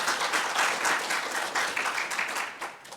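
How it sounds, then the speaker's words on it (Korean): Church congregation at a Sunday service claps warmly together, a steady dense round of applause at moderate volume that continues evenly before easing slightly at the end. "다시 한번 제대로 우리 박수 한번 하시기를 바랍니다"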